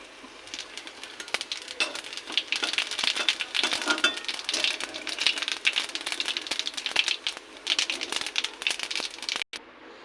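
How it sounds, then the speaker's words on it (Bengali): Cumin seeds frying in hot oil in a pan just used for frying fish, a continuous close crackle and sizzle with dense popping, steady throughout and ending abruptly. "এবার এই তেলে জিরে ভেজে তুলে রাখবো।"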